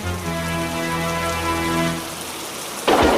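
Heavy rain pours in a stormy scene on a wooden toy railway, a dense steady wash under sustained musical tones, then a sudden louder burst of noise right at the end.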